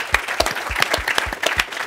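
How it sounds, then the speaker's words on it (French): Audience applause at a live tech-event broadcast: a steady run of sharp, close handclaps in a quick, even rhythm, with no voices over them. "On voulait vraiment vous applaudir."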